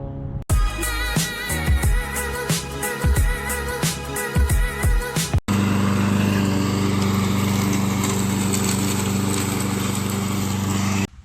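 A Toro Recycler XT675 self-propelled lawn mower with a Kohler engine, picked up off the curb and repaired, sputters through a rapid, uneven pulsing stretch. It then settles into a loud, steady, close-up engine drone with no talking.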